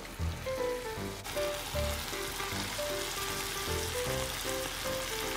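Blackthroat seaperch simmers slowly in broth over low heat, a dense even bubbling and crackling with a low rhythmic tapping pulse running through it, heard close with no voices.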